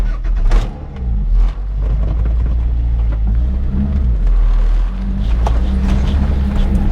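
A 2000 Toyota MR2 Spyder with coilovers and bracing drives along, its engine a loud, steady close drone with road rumble and slight swells in pitch as it pulls, no talking.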